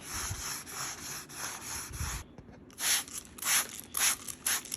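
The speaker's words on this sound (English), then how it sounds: "I'm going to go through a process of wet sanding with some 600 grit and a sanding block" A 600 grit sanding block rubs back and forth over a veneered drum shell during wet sanding, a rhythmic hissing scrape in steady strokes with a brief pause halfway through before quicker passes resume.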